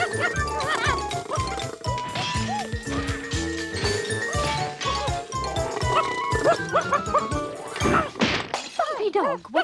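A cartoon dog barks repeatedly and causes a crash, with bright yips and bow-wows mixed with smashing and clattering thumps. Animated voices and music-like tones run through the loud, busy scene.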